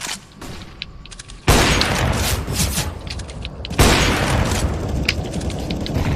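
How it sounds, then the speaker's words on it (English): Video game flashbang grenades go off in two loud, sudden broadband blasts, each followed by a sustained harsh roar and crackle, with fainter sharp game effects between and after them. "Throwing flashbang."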